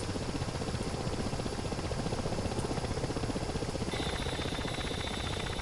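A Ka-50 Black Shark helicopter in the DCS World flight game hovers with a steady, dense rotor and turbine roar, continuous and fairly loud, with a slight shift in tone near the end and no voices.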